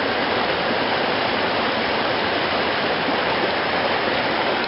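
Falls Creek rushes down Jackman Canyon in a loud, steady roar of whitewater that fills the scene without a break and has no voices over it.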